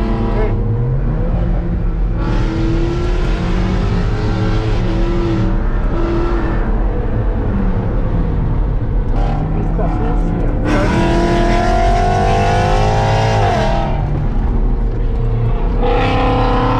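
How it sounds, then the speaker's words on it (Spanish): A Corvette sports car engine roars on a race track, rising and falling through repeated revs and passes, loud and close, while people talk over it. "Mucho sonido del Corvette"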